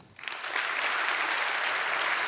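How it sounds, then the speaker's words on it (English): A conference audience at PyCon & PyData Berlin 2023 lightning talks breaks into clapping that swells within a fraction of a second, then holds as a steady, fairly even roar of many hands. "keep clapping if it's more than 80"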